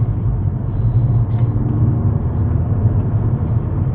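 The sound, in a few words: Mercedes-Benz A45 AMG engine in sport mode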